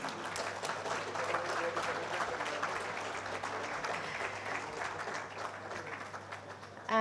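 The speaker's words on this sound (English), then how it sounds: "Can I have a round of applause" Audience applause at a defence conclave and book launch, a steady sustained clapping from a crowd in a hall that holds for several seconds before tapering slightly at the end.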